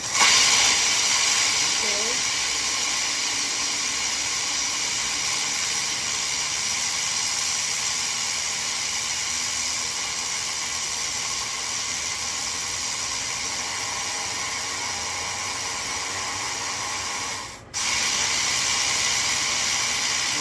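A pressure canner hisses steam while pinto beans are canned in a home kitchen. The hiss is broad and continuous, holding steady at moderate loudness for about twenty seconds, with a brief dip near the end before it resumes.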